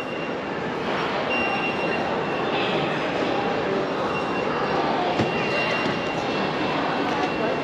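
A steady, loud rumble and roar of a metro train passing near a railway station in Hangzhou, China, continuous throughout with a broad rushing noise.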